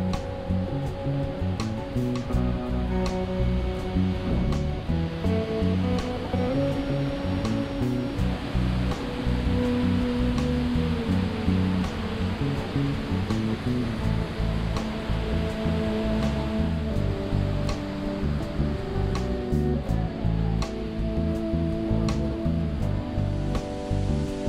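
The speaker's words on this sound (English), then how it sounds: "I just love the waterfalls here" Waterfalls at the spring fountains and Palais in Marseille give a continuous, even rush of splashing water, steady and fairly loud throughout with no voices.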